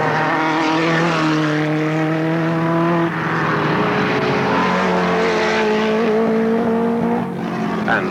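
Race cars roar past at Alwalton Raceway in 1983, a loud continuous engine drone with shifting pitch as several cars pass close by, no talk over it.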